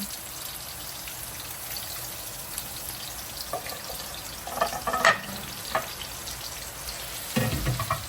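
Chicken frying in a pot for Guyanese chicken curry, a soft continuous sizzle with a few louder crackles and scrapes of a spoon stirring near the end.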